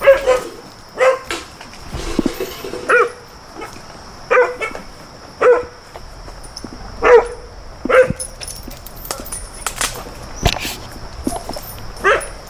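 Pit bull dogs bark in short repeated bursts of about a dozen sharp barks spread across the clip, close and loud, with a few yips and whimpers mixed in over a steady high hum.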